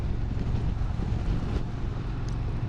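Steady wind rushes over the microphone during a motorcycle ride on a road between Bursa and Balıkesir, a constant close roar with low rumble and no clear voices.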